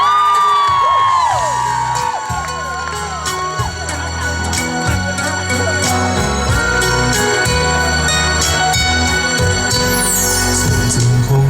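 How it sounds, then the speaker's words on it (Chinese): Concert crowd at an outdoor school event cheering, screaming and whooping for the singer and staff, a loud, continuous roar of many voices with high shrieks layered on top throughout. "给他们一个热情的掌声加尖叫声"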